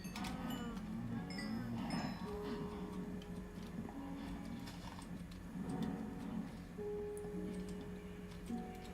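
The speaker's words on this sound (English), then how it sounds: "And just because we can also breed the cows, let's do that too." Cattle mooing in the Minecraft video game, several drawn-out low moos repeating over steady game ambience with clicking mechanical sounds from a modded world.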